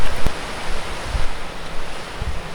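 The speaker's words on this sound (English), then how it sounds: "Pretty cool shot of the river again." A river flows beside a rocky trail crossing near a bridge, a steady close rushing wash with occasional low wind thumps buffeting the microphone.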